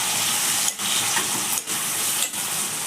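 Tomatoes and onions sautéing in a pan for a small-fish curry, a steady close hiss and sizzle broken by three brief dips as the pan is stirred or moved.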